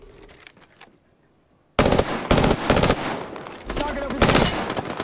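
Rapid automatic gunfire in the Apex Legends video game, with a few quiet shots at first, then a pause and loud sustained bursts of firing that continue to the end.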